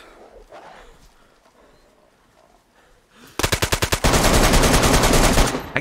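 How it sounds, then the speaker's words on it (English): Rapid bursts of automatic gunfire in DayZ erupt loud and close after a quiet stretch, a fast rhythmic volley followed by sustained dense firing that fills the rest of the moment. "You heard those gunshots, did you?"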